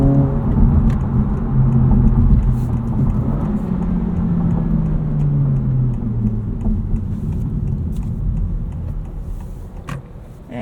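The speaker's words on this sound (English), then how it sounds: "We get some fake engine noise in sport mode" A 2025 Honda Civic Si's simulated sport-mode engine note hums and drones, rising then falling in pitch as the car accelerates and eases off, steady and moderately loud inside the cabin.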